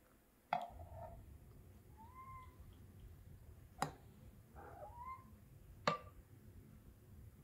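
A cat gives two soft, quiet meows in a hushed room, with a few sharp clicks or taps in between.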